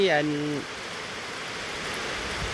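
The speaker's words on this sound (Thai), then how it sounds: "ฝนตกลินนะฮะก็ว่าได้" Heavy rain falls steadily around a rural home, a constant even hiss that follows a brief voice at the very start.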